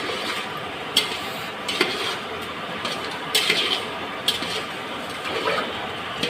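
Chicken sambar in a pot gets mixed after salt is added, producing soft scraping and clinking of a spoon against the vessel with occasional sharper taps over a low simmering background.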